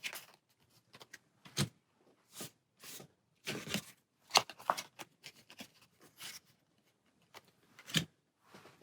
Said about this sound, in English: All right, shuffling these,